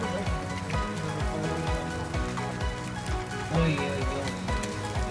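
Large raindrops drum heavily and continuously outdoors on a hill, a close, even downpour with a brief voice calling out over it.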